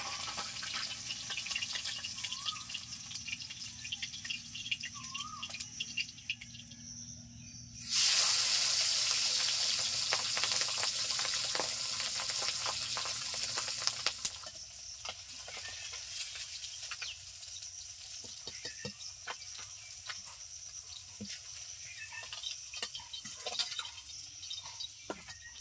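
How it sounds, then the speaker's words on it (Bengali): Pabda fish frying in oil for a spicy pabda curry, a steady crackling sizzle that surges loud and dense for several seconds in the middle, then settles back to a softer spitting fry, with no voices. "সবগুলো মাছ ভাজা হয়ে গেছে, এই কয়টা রয়েছে, তো চলো ভেজে নেওয়া যাক।"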